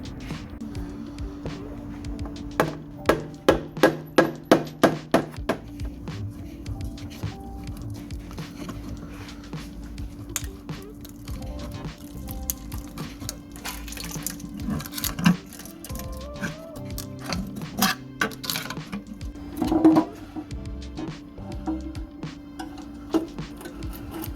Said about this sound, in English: Give it a few hits with the rubber mallet, pry it off with a little screwdriver, it should come off.